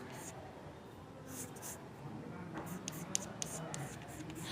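A marker or chalk scratching on a board in short strokes, soft scrapes that cluster toward the end, heard close under low background noise.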